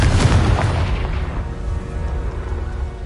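In the Hogwarts Legacy video game, a Confringo blasting spell erupts in one loud, deep explosive boom up front, then its rumble fades away over a few seconds.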